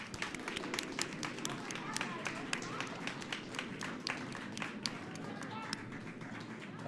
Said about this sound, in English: Round of applause for the folks coming off of Sheet C.